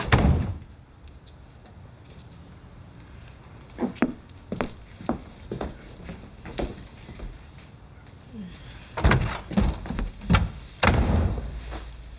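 A door in a film scene is opened and passed through, giving a series of soft knocks, thuds and a sliding scrape, with a louder cluster of thumps near the end over a quiet room tone.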